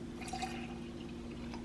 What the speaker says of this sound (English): I'm just gonna pour in half of the Oatly